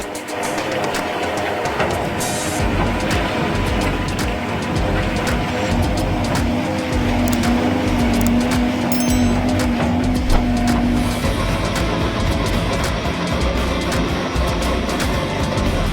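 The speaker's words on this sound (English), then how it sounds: "The powerful engine roars loudly, creating a mechanical spectacle of precision," A powerful heavy equipment engine roars continuously at close range while clearing grass at the edge of a road, a loud, unbroken mechanical drone with a rising whine in the middle and no talking.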